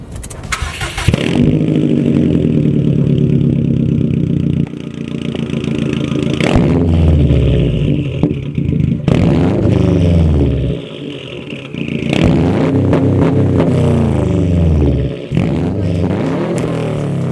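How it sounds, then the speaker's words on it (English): A Nissan 370Z engine cranks and starts, then revs repeatedly in loud, raspy bursts through a cheap aftermarket catback exhaust, dropping to idle between blips. "You want to talk about the exhaust?"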